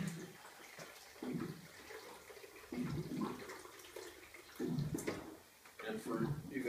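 Spring water pours into a Vitamix blender container in short splashing bursts, separated by pauses. A voice murmurs quietly in the background.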